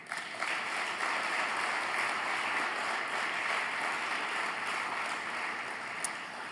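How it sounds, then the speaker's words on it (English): An audience at a high school hall of fame induction ceremony claps steadily for the inductees, a dense, even wash of applause heard from within the hall. "would you please join me once again in applauding our 5th class of"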